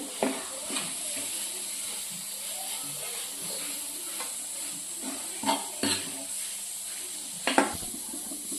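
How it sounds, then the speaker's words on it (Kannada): Tomatoes fry in a pan for a tomato palya, giving a steady soft sizzle with occasional scrapes and clicks of a spoon stirring them, fairly close and moderately quiet. "ಐದರಿಂದ ಹತ್ತು ನಿಮಿಷ ಫ್ರೈ ಮಾಡ್ಕೋಬೇಕು"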